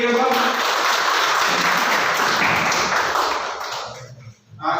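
Audience of parents at a school brain-development seminar claps steadily and loudly, broad dense applause that thins and fades toward the end.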